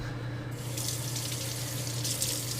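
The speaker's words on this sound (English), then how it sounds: "I'm gonna rinse that off." Tap water running to rinse a Japanese natural whetstone, a steady close hiss and splatter throughout, over a low constant hum.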